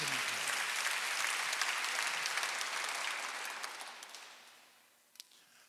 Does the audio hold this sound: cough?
no